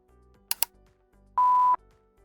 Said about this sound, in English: you can choose to hear a beep or not when the timer of the button action is expired